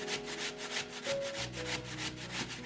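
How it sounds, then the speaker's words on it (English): A potato rubbed against a kitchen grater, close and fairly loud, in a steady rhythmic back-and-forth scraping of about nine to ten strokes. "Grating potato."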